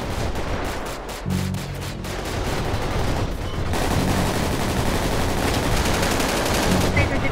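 Dense, continuous gunfire in Grand Theft Auto V, with rapid automatic bursts and overlapping shots, loud and close, with brief voices underneath.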